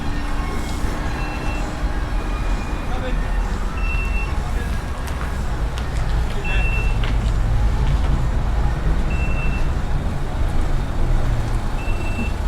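Busy road traffic with trucks rumbling past while a motorhome parks, a steady close wash of engine noise with repeated reversing beeps sounding through it.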